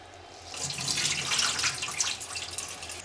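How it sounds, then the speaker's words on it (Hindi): Soaking water is poured off white chickpeas that sat overnight without baking soda, a steady splashing rush of water into a sink, close and fairly loud, with no talking. "अब इसका हम ये पानी निकाल देंगे"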